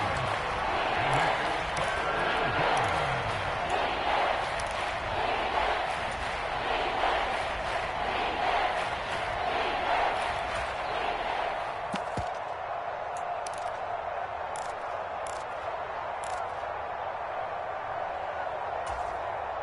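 A broad, roaring football stadium crowd in a video game, cheering loudly and continuously before a big third down, with the crowd noise swelling and then thinning slightly toward the end.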